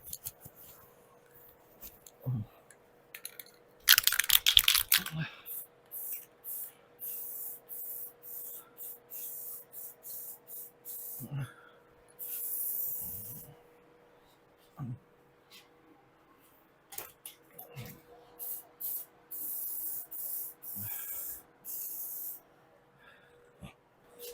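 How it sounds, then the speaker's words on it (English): Short bursts of aerosol spray paint hiss repeatedly on a VW Beetle trunk seal channel, some longer, some quick, with a faint hum and occasional small handling noises between them. "I'll bring you up close when I'm spraying this so you can see it."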